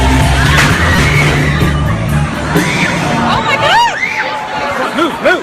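A high school musical stage in Indiana collapses during the finale song: a loud crowd is heard, then a bang followed by rising shouts and screams.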